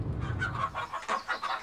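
Chickens on a farm cluck in a quick run of short, nasal calls, fairly close and moderately loud, with no talking over them.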